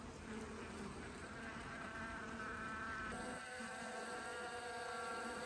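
Honey bees buzzing steadily at a hive while a new queen is introduced in a cage with a candy plug, a dense continuous hum that fills the whole stretch with no voices.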